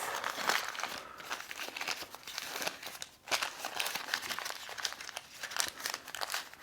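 A paper towel is crumpled and folded into a little pocket beside a Nespresso espresso machine, making continuous close crinkling and rustling with brief pauses, with no voices.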